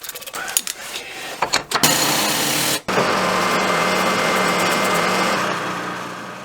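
Drill boring new bolt holes through a Suzuki Hayabusa motorcycle wheel disc in a machine shop, a steady high-pitched whine with a few brief stops and starts early on, then continuous loud cutting to the end.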